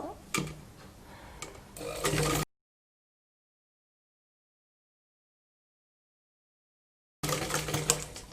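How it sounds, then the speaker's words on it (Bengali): Sewing machine stitching cloth for a handmade shoe, heard in two short close bursts of rapid mechanical ticking separated by several seconds of complete silence. "এই যে বরাবর যে দাগ দিয়েছি সে অনুযায়ী সেলাইটা করে নিব"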